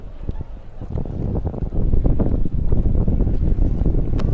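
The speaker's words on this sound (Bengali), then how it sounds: "চারিদিকে অসংখ্য বোট" Boats move on the river at the Kumbh Mela sangam in Prayagraj, with a low engine rumble half-buried under heavy wind buffeting on the microphone, growing louder partway through.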